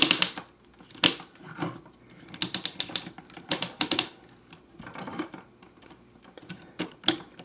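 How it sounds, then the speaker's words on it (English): Ratcheting arm joints on a Transformers Universe Vector Prime figure being moved, a series of crisp plastic clicks arriving in short irregular bursts, close and clear with nothing else around. "the arms can rotate around on a nice ratchet"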